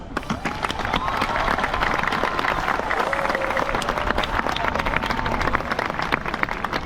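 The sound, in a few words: applause at a high school graduation ceremony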